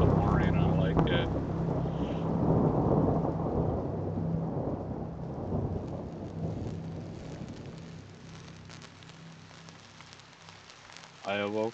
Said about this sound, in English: Rain pounding on the cracked windshield of my Hoover.